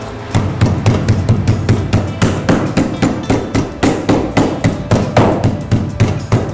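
A meat mallet pounds chicken fillet in a fast, steady rhythm of dull thuds, about two or three blows per second, close and loud, with no talking.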